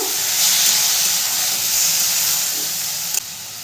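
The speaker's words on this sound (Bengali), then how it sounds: "এরপরে দিয়ে দেবো কেটে রাখা টমেটোটা।" Chopped tomato hitting a hot pan with nigella seed tempering while making a spicy tomato chutney, giving a steady broad steamy sizzle and hiss that holds throughout, with a small clatter near the end.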